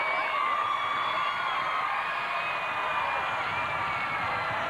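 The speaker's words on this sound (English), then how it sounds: "I hear the crowd reaction over there" Crowd cheering and whooping at a 2002 UCLA versus Stanford college gymnastics meet after a perfect 10, a steady, dense roar of many voices held throughout at full strength.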